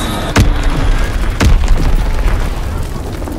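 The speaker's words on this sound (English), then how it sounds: "Enemy bomb incoming. Get to cover." Enemy bomb explosions in the video game Call of Duty WW2, two sharp, heavy booms about a second apart over a rumbling battlefield background.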